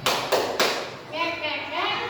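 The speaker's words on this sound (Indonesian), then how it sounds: "Tepuk satu, tepuk dua, tepuk tiga" Three sharp group claps in an even rhythm, followed by a voice chanting.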